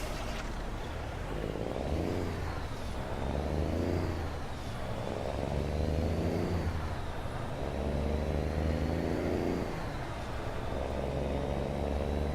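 A road train truck in a trucking game runs between Kingman and Flagstaff, Arizona, its engine droning steadily and loud with periodic swells in pitch as it drives.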